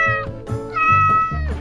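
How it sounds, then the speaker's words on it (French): A player character in the Poppy Playtime game meows after drinking a catnap potion: a run of four or five close, loud, tonal meows in quick succession. "je me mets à miauler là"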